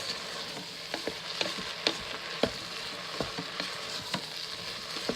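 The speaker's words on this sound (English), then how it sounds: "I'm going to add in my tablespoon of chopped parsley. Give that a nice stir." Chopped parsley being stirred into spiced pork in an Instant Pot, soft sizzling under a series of spoon taps and scrapes against the pot, fairly quiet with no talking.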